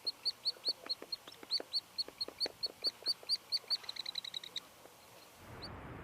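Distant birds chirp in a quick, regular series of bright notes from far off in a natural outdoor setting. The calls stop shortly before the end, and a soft rush of noise follows.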